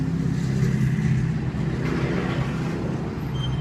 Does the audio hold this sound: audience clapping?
no